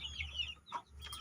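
Chickens raised in a backyard flock during the rainy season cluck faintly in a couple of short, soft bursts, with a low hum running underneath.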